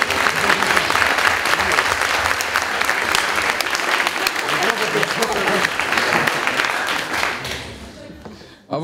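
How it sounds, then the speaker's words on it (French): A jury member is welcomed onto the stage at an eloquence contest final at IAE Lille with loud, sustained audience applause. The clapping holds steady for about eight seconds, then fades out. "veuillez accueillir très fortement, très chaleureusement, avec des grands applaudissements, Monsieur Alexandre Barège."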